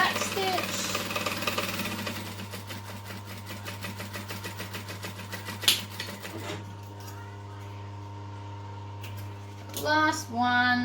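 A home sewing machine back stitching while sewing a fabric snap-it-up bowl, running in rapid rhythmic bursts over a steady hum, then pausing with small handling clicks near the end.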